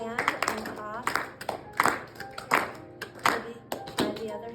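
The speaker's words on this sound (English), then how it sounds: "So practice, just clapping" Hand clapping as a practice exercise, with close, crisp claps landing in short rhythmic bursts while a voice talks or chants over them throughout.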